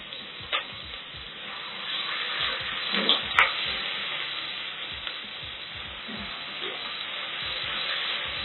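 Garlic and ginger sizzle in hot oil in a pot for beef pilau, a steady moderate frying hiss with occasional soft stirring clatters and a brief utensil clink.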